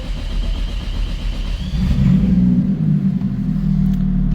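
A Toyota 1JZ engine swapped into a Nissan Silvia starts and rises into a loud, close, rumbling idle that swells as it revs.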